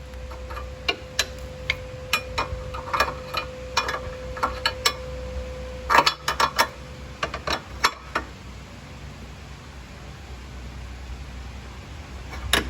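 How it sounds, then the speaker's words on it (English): Metal wrench clicks and taps while a 22mm wrench tightens an exhaust fitting on a Fiat 124 Spider Abarth, irregular sharp ticks in short bursts over a low steady hum. "Go ahead and then tighten it up with your 22mm wrench."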